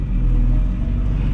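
A 375hp big-turbo TDI car launches with wheelspin, a loud continuous low rumble and roar from the engine and drivetrain throughout.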